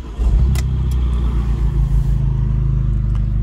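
An Abarth 695 Rivale running in sport mode with its exhaust valves open gives a loud, steady low engine drone close by, with no voices.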